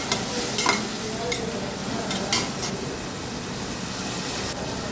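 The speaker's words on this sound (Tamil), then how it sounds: "தக்காளி நல்லா வதங்கி வரட்டும்" Tomatoes sautéing in a pan, a dense close sizzle with a few brief scraping stirs of a spoon, steady throughout and without any voices.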